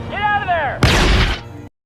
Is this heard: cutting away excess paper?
no